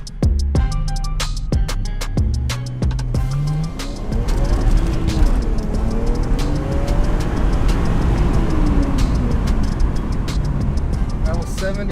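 BMW 335i with N54 engine and aftermarket downpipes accelerating hard in second gear to about 70 mph, opening with sharp crackles and pops, then a loud sustained exhaust roar climbing and shifting pitch, recorded close.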